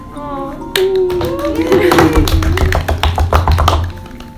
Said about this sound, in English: They kiss to wild applause